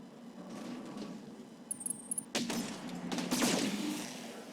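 Pulse lasers fire in the BattleTech mech game, a quick burst of sharp bright zaps followed by a couple of rushing blasts over a low engine hum, fairly quiet overall.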